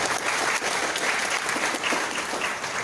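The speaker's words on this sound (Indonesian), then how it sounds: "Tepuk tangan Bapak Ibu." A roomful of people at a training session applaud loudly and continuously, a close, dense burst of clapping with no pauses.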